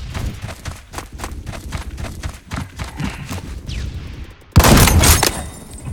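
Shots from a sniper rifle in the online shooter Phantom Forces: a run of rapid gunfire cracks and clattering footsteps, then one loud, sustained blast with a ringing tail near the end, no talk.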